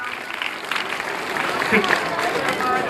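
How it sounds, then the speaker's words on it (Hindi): Applause for a student at a school award ceremony at an inter college foundation day, steady clapping from a crowd across the whole stretch with voices talking over it. "और तालियों के साथ में बच्चे का उत्साह वर्धन करें आप"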